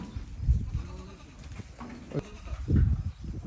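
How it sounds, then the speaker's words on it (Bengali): Goats roaming freely on an Amish farm bleat loudly twice, near the start and again toward the end, with quieter farmyard noise and faint voices between the calls. "এইগুলা তো ছাগল উন্মুক্তভাবে ঘোরাফেরা করে।"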